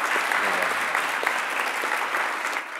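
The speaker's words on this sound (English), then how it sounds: "Can we get another applause for her?" An audience at a high school presentation day applauds for an award winner, a steady wash of many hands clapping that stays fairly even and then tapers slightly at the end, with a faint voice underneath early on.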